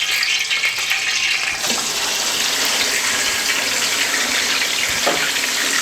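Chicken frying in hot oil in a wok (kadhai) for Lahori chargha, a loud, continuous, close hissing roar that holds steady from start to finish, no voices.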